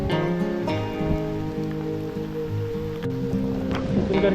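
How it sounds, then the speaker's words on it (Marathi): Heavy rain pours in a continuous broad hiss, with a loud droning hum running underneath the whole time, at a river during crab catching. "जोरदार इकडून पाऊस आला"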